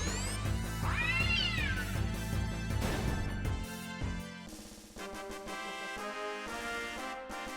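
A cat in Final Fantasy IX lets out a single rising meow early on, heard over looping in-game music that carries on after the cry fades.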